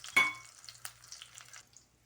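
A shami tikki patty sizzles on a pan over low heat, a sharp clink and hiss at the start settling into soft, intermittent crackling that fades out.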